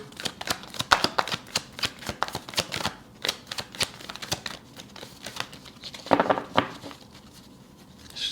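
Tarot cards riffle-shuffled up close, rapid crisp fluttering bursts repeated several times, with a louder riffle near the end. No speech.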